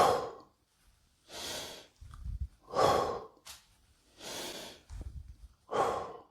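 Slow, deliberate breaths in and out paced to squat repetitions during a fitness session, several audible inhales and exhales alternating with short pauses, close to the microphone with no talking.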